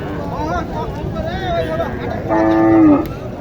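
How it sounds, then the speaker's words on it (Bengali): A Sahiwal cow lows once at a busy cattle market in Naogaon, a loud drawn-out moo rising clearly near the end above crowd chatter and someone talking close by. "এখানে একটি গরু দেখেন"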